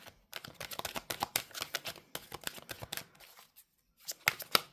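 A Gateway Oracle card deck being shuffled by hand: quick, close, papery riffling and flicking in bursts, a short pause, then more shuffling.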